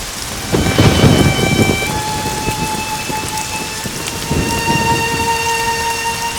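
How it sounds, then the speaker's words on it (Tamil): Sudden heavy downpour with thunder, a dense hiss of rain on surfaces and a deep rolling rumble that swells early then eases, with a steady electronic tone running underneath. "திடீர்னு மழை வந்து பூரா நனைஞ்சு வச்சு"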